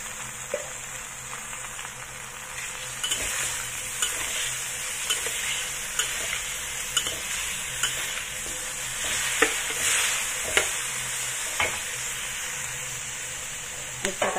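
Beef stir-frying in a pot for a Chinese-style beef soup, a steady sizzle and hiss of frying with repeated scrapes and clinks of stirring, close by with no talk.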